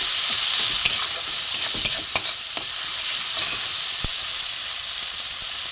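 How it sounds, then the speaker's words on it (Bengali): Grated ginger, chilli, cumin and coriander powder sauté in a hot pan, a loud, continuous sizzle and hiss with a few soft scrapes and taps of stirring, heard close up without any talk. "এখানে গ্রেট করা আদা আছে দেবো, একটু ভালো করে কষিয়ে নেবো।"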